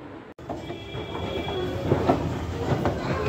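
Ambience at Bhagalpur railway station, with a low rumble of a train and faint rhythmic wheel clatter and squeaks moving along the platform.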